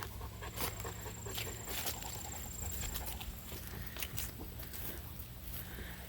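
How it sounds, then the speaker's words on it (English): Ludo, a dog out on a three-mile hike, pants quickly and rhythmically close by, with rustling footsteps and steady outdoor background noise. "He's panting a lot, but he's still got the energy to go."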